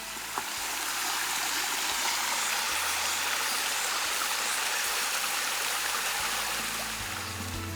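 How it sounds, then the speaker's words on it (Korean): A clear mountain valley stream flows beside a walking trail, giving a steady, close, full rushing and babbling wash of water with no voices. "자연이 만들어주는 가장 편안한 음악, 물소리와 함께하는 산책길."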